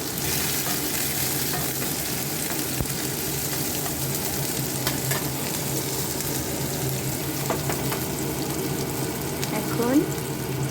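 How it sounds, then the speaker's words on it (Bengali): Eight garlic cloves frying in hot oil alongside dried red chillies for dal fry, a steady close crackling sizzle with occasional sharper pops and faint clinks of a utensil, continuous and even in level. "রসুনের আমি 8 কোয়া দিয়ে দিচ্ছি।"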